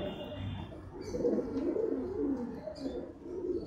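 Madras pigeons of an old bloodline coo softly and continuously at close range, a low throaty murmur that swells and fades over a faint background.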